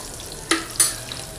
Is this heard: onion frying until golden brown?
yes